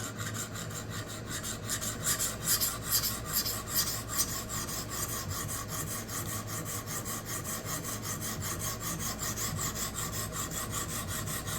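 An Eafengrow EF11 knife blade is sharpened on Xarlik Gen 2 and SYtools budget diamond plates, giving continuous gritty rasping strokes in a quick, steady back-and-forth rhythm, close but fairly quiet.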